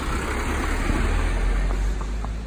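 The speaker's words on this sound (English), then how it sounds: "Got a bit of traffic coming now. A couple of vans." Road traffic with a couple of vans passing a horse out hacking on a main road, a steady broadband engine and tyre rumble heard close by that holds throughout.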